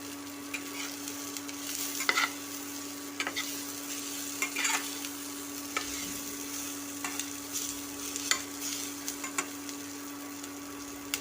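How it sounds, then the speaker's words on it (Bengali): Onions frying in a pan give a steady, close sizzle, broken by regular scraping stirs about once a second. No voices are heard. "পেঁয়াজটা ভাজতে দিচ্ছি পেঁয়াজ ভাজাটা প্রায় হয়ে এসছে"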